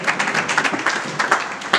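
A church congregation clapping in praise of the Lord during a prayer service, a steady patter of many hands at moderate loudness, rhythmic pulses running through the whole stretch.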